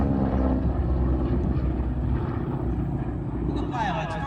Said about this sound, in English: Those supercharged Pratt & Whitney R1340 radial engines are kept in top shape by our sponsor